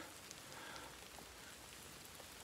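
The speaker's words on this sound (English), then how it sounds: "it's raining." Steady rain on the North Kaibab Trail in the Grand Canyon patters on a surface, a soft continuous hiss with occasional distinct drops, fairly close and constant throughout.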